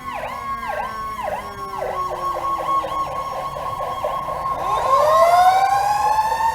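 An ambulance siren wails in a rhythmic rising and falling pattern, fairly distant at first, then shifting pitch and growing louder amid traffic rumble.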